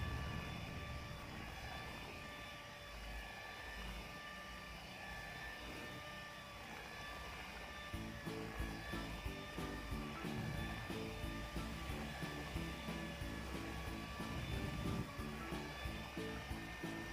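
An electric mixer beats thick martabak bangka batter with a continuous high whine, and a rhythmic rattling of beaters against the bowl grows more pronounced in the second half.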